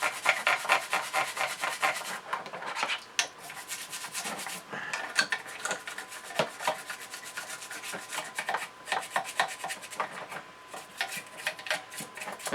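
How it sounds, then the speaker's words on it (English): Scrubbing grime off a Capri caravan part: steady, fairly close rubbing and rasping strokes in quick repeated bursts, with no talking. "it needs scrubbing a bit more here and that, scrub, scrub, scrub."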